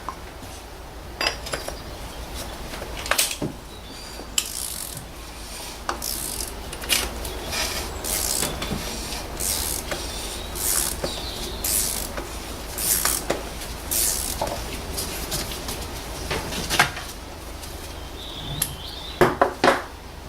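Oil filter cover on a 2008 BMW E91 being unscrewed, with scraping, creaking mechanical rubs and sharp metallic clicks of tools and parts scattered across the stretch, close and fairly quiet.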